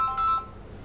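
Telephone tones from a call in the game Warhammer 40k Rogue Trader: a brief pair of clean beeping tones at the start that fade quickly into quiet room hiss.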